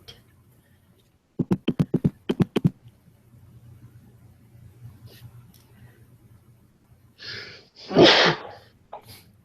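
A person sneezes loudly and close by in a quiet room, after a quick run of sharp sniffs or breaths, and someone murmurs faintly in the background.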